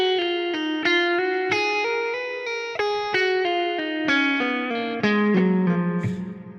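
Distorted electric guitar playing a rapid run of legato pull-offs, each pulled off hard so the notes are sharp, loud and ringing, descending toward the end with sustained tone.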